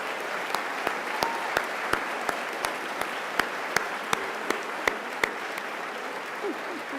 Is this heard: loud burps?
no